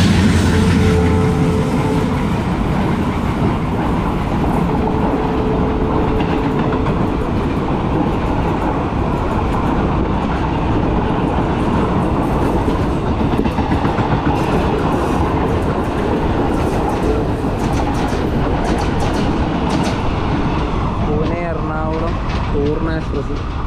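Purna Express from Pune to Ernakulam rolls along the rails near Kuttippuram at night, a loud continuous rumble and rattle of the carriages heard from on board, with clicking wheel beats and a brief squeal near the end.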